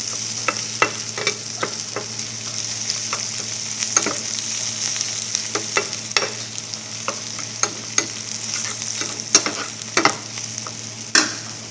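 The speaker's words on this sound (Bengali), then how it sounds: "তারপর হচ্ছে রসুনটা দিয়ে ভালো করে ভাজবো" Garlic and onions fry in a pan for a Bengali dish, giving a steady sizzle broken by frequent sharp scrapes and clinks of stirring. The sound is close and continuous, with no talking.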